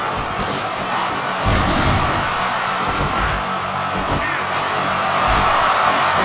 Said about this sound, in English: crowd just got really loud in my headphones there.